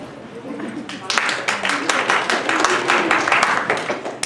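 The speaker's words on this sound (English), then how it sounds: "Okay, that needs some applause." Audience applause at a Rotary club meeting, a steady wash of many hands clapping that swells after about a second and carries on through to the end.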